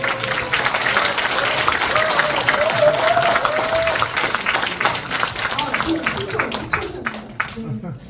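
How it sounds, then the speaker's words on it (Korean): A forum crowd in Pocheon gives dense, continuous applause that holds steady and then gradually thins out toward the end, with faint voices mixed in. "좀 박수 부탁드립니다"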